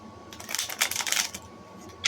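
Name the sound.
shuffling tarot cards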